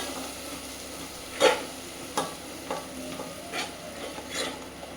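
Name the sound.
stirring and frying curry masala in a pan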